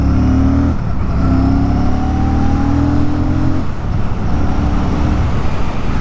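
A Royal Enfield Classic 650 motorcycle accelerates on the road, a loud, close engine note rising in pitch through two gear changes over steady wind and road noise.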